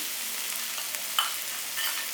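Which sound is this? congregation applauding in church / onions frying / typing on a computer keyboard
onions frying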